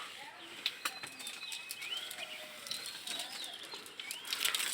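Pigeons at a pigeon farm flutter and flap their wings nearby, with soft chirps and light calls mixed in throughout.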